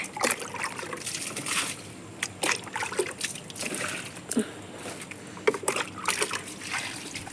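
Rice-washing water is poured over garden plants, heard as close, uneven trickling and splashing with small sloshes in irregular bursts.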